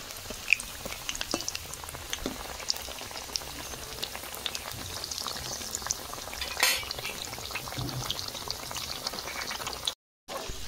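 Palm fruit satpuri pitha deep-fry in bubbling oil, a close, continuous crackling sizzle with dense popping, heard alone without talk before it breaks off briefly near the end.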